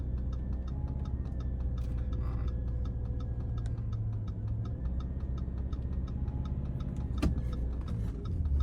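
An Audi A6 4.2 Quattro V8 engine runs roughly and unevenly in neutral, a steady close rumble with faint ticking throughout and a brief sharp spike near the end, with no talk over it.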